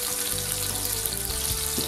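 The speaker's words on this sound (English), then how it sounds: "Duck or goose fat, frying pan on maximum heat." A steady, loud sizzle of onions frying in duck or goose fat in a pan on maximum heat, continuous and close without any talking.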